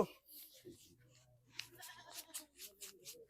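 A desi goat bleats a few times in short wavering calls, close by at a goat market, with faint background noise between them.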